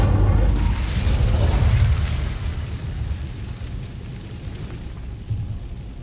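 An Incendio fire spell goes off in Hogwarts Legacy, a loud roaring whoosh of flame that swells at once and then slowly fades over several seconds.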